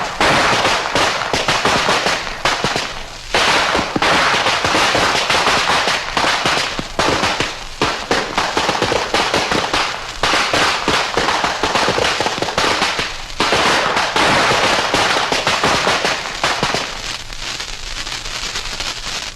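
Firecrackers burst in a dense, continuous string of loud crackling pops lasting many seconds, close and harsh, with only brief lulls before the rapid explosions resume.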